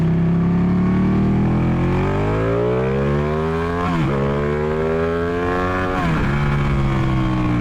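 Ducati 899 Panigale sport bike accelerating hard, its engine note climbing steeply through the revs with quick gear changes around every two seconds, loud and close with no voices.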